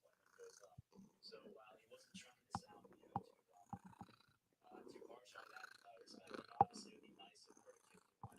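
A cat sitting on a chair purrs softly in close, a faint rumbling under a person's quiet, gentle speech and whispering.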